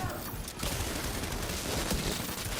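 Gunfire in The Division 2, a dense rattle of shots over a loud, busy combat background, near and continuous throughout.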